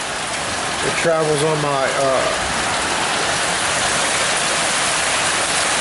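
Steady rain pours down onto concrete with a dense, even hiss of water, while someone speaks briefly near the start.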